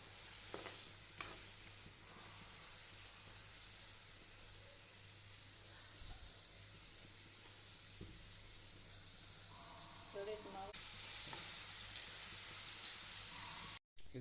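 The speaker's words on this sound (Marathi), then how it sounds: "आपले झिंगे फ्राय झाले" Prawns fry in a pan with a steady, close hiss and crackling sizzle that holds for the whole stretch, growing a little busier near the end before a sudden cut.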